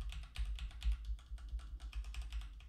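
Rapid, uneven clicking of keys on a mechanical keyboard with red switches, close and clear, a steady flurry of keystrokes with no talking.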